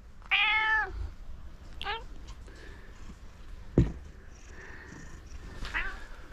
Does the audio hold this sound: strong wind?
no